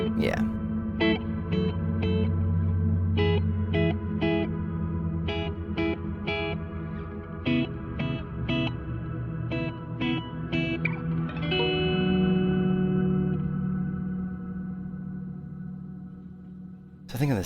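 Electric guitar through a Mercury X reverb pedal with lush reverb and a chorus-like shimmer, picked notes ringing out and sustaining into a long washy tail, with a swelling chord near the end.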